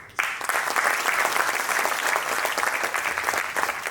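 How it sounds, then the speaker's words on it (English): A round of applause from a closing ceremony audience, with a dense, steady wash of many hands clapping that starts abruptly and holds evenly throughout. "We want to give a wonderful round of applause for that."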